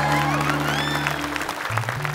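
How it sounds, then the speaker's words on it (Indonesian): Studio audience clapping on the Opera Van Java comedy show, a dense burst of applause laid over a sustained musical backing with bright sliding tones, fairly loud and continuous. "Tepuk tangan dong."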